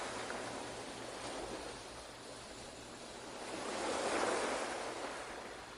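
Ocean waves wash onto the shore in a steady, soft surf that swells into a fuller surge toward the end, with no voices.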